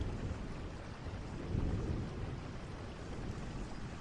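Steady rain falls as a soft, continuous hiss in the background, faint and even with no other sounds.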